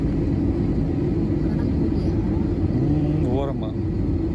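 Loud, steady engine and airframe rumble fills the cabin of an airliner landing near Langkawi, Malaysia, with a voice briefly heard over the drone.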